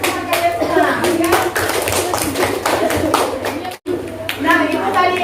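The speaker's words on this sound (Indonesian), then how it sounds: "Beri tepuk tangan untuk kalian semua." Students in a classroom clapping together after a presentation, a fairly loud burst of hand claps with children's voices and chatter mixed in, briefly cut off partway through before resuming.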